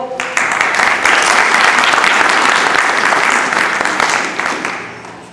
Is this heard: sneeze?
no